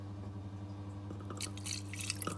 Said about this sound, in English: we shall be adding some little water as we go along